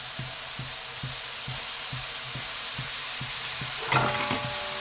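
Beto greens dropped into a hot wok sizzle steadily in a constant frying hiss, with soft regular stirring taps underneath and a brief louder clatter near the end, no talking.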